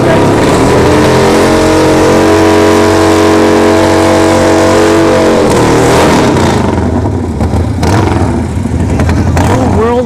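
A Harley-Davidson drag bike launches down the dragstrip at a test-and-tune event, its engine roaring loud and close in a sustained rising blare that then tapers off into rougher, fading noise.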